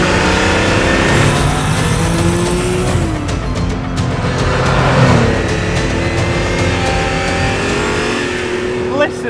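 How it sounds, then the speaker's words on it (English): A Ferrari 512BB's carburetted flat-12 boxer engine with sports exhaust revs up and settles in repeated swells, loud and close, with rising and falling pitch sweeps while someone talks over it. "this is a flat 12 Boxer engine on carbs"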